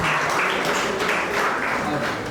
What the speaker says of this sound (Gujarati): એકવાર ફરીથી તાળીઓ